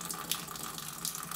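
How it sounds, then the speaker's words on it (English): Hot sparge water at 77 degrees is ladled over grain while brewing a porter, giving a soft continuous splashing and pouring, close and fairly quiet, with no talking. "I will then start ladling the water, which is at 77 degrees."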